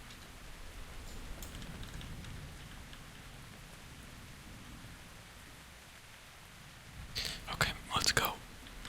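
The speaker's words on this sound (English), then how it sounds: "I'm actually gonna have to wait for this rain too" Rain in the video game PEAK, on a mesa level, makes a steady, soft, even hiss throughout, with a short cluster of louder, sharper bursts near the end.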